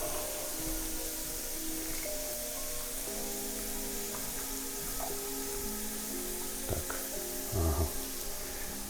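Borscht vegetables being stirred in a pan give a low, steady sizzle, with the soft scrape and clatter of a utensil. Short louder knocks come near the end, and no one speaks.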